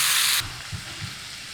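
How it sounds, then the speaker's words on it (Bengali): Chicken for biryani fries in a pan, a brief burst of loud hissing steam giving way to a softer sizzle with a couple of low stirring thumps. "মাংসটা নেড়ে চেড়ে ভাজা ভাজা করে নিই"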